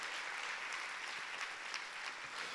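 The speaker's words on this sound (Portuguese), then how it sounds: "Mais um aplauso ao Senhor, porque Ele é maravilhoso." A church congregation applauds the Lord in steady, dense clapping that fills the whole moment at an even level, with no voices standing out above it.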